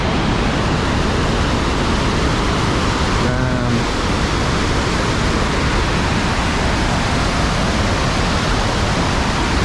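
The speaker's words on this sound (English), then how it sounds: "So this is where the waterfall starts" Steady, loud rushing water fills the whole clip, a constant roar at the top of Montmorency Falls near Quebec City, close by, with a brief spoken exclamation partway through.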